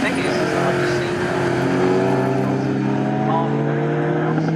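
Pre-1983 Group 1 touring race cars at Snetterton, running nose to tail: engines roar loud and sustained at close range as they pass, with a commentator talking over them.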